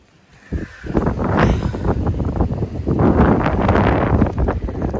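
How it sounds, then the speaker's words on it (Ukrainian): Strong wind buffeting the microphone in loud, gusty rumbles in a vegetable garden, rising and persisting throughout, with rustling noise underneath. "Вітер сильний"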